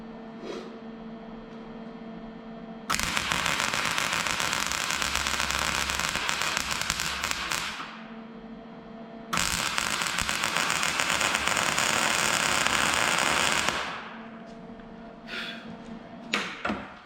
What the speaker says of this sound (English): It doesn't sound like a nice crisp weld.